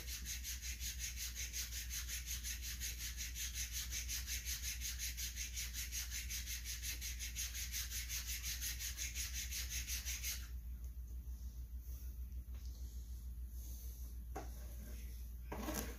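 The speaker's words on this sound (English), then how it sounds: "Go back and forth while you're filing." Phenolic on a sub saw is filed back and forth, giving a quiet, steady rubbing rasp under a constant low hum, with a few sharper scrapes near the end.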